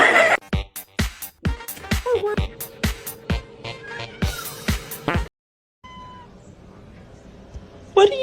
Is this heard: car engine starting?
no